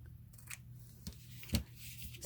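Scissors trimming glued-down scrap lace and craft paper on a handmade summer craft project, a few quiet, brief snips spaced apart with the strongest cut near the end, over a low steady background hum.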